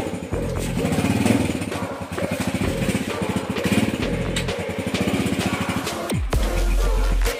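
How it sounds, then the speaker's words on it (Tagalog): A Honda TMX 125 Alpha motorcycle fitted with a newly installed hydraulic clutch rides on a test run, its single-cylinder engine chugging loud and close throughout with rising and falling revs. "magte-test drive muna tayo ng ginawa nating RCB hydraulic clutch dito sa Honda TMX 125 Alpha"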